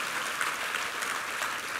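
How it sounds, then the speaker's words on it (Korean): A church congregation at a Sunday worship service applauds the choir with steady, dense clapping that fills the whole short stretch evenly and without a break. "2부 성가대 한번 힘찬 격려 박수 부탁합니다"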